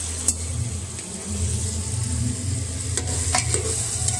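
Tomatoes cooking with salt in a pan for aloo matar tahri give a steady close sizzle and low frying hiss, with occasional stirring scrapes and utensil taps breaking in.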